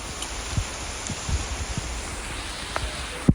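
Steady rain falls at the Vayalada viewpoint walkway in Kozhikode, a soft continuous hiss broken by a few close drips and small knocks, ending with one sharper tap.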